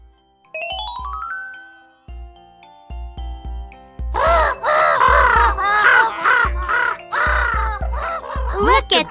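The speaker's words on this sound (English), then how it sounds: "The other birds call as Umbrellabird rides by." Cartoon birds in a children's animated story let out a burst of raspy, crow-like caws, loud and overlapping, over a bouncy musical jingle with chiming notes.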